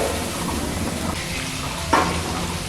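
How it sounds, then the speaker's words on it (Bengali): Spice paste frying in oil in a kadai, stirred until the oil separates: a steady close sizzle with soft scraping of a spoon, one brief louder hiss near the end. "আর মশলাটা ততক্ষণ কষাবো যতক্ষণ না জলটা শুকনো হয়ে মশলার থেকে"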